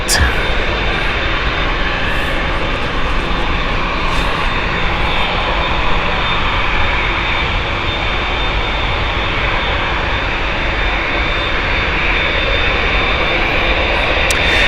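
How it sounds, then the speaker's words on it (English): Airliner jet engines roar steadily at Gatwick Airport, a loud continuous broadband rush that holds without break, with voices talking faintly underneath. "Yeah, Ken, they're a beautiful engine for me. I like the noise, and it's got my heart because of the noise it makes"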